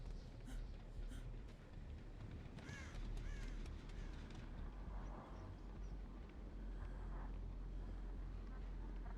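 Crow caws in a video game, a few harsh calls rising over a steady wind-like ambient rumble and low background noise, fairly faint and intermittent.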